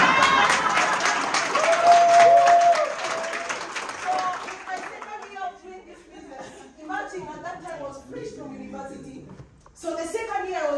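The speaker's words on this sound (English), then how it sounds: "So if you want to clap, make sure you clap." An audience at a business talk claps and cheers for several seconds, then the applause dies away into scattered chuckles and chatter as voices take over.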